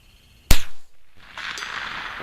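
A single sharp crack comes from a .22 Savage Mk II FV-SR rifle fired at a steel target 200 yards out, followed by a brief decay and a faint hiss, heard alone without talk.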